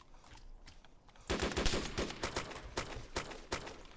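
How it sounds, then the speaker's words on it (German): AK rifle fire in DayZ Origins, a sharp burst of rapid shots that starts abruptly and keeps going as a string of loud, closely spaced cracks over faint background. "Der schießt eine AK."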